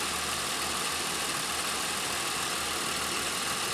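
A rebuilt Pontiac Aztek engine after a head gasket job, idling smoothly and steadily close by. A low, even hum runs through the whole stretch with no other sounds.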